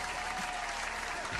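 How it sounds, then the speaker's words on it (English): Steady applause from a live studio audience on a morning talk show, dense and continuous clapping filling the whole moment at close range with no voices over it. "Clap it up for Hector."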